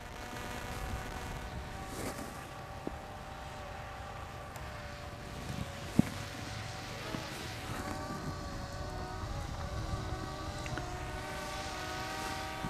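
FIMI Mini drone descending toward a landing pad outdoors, a steady whining propeller hum with shifting tones, moderately loud and continuous, with a few small clicks and no talk.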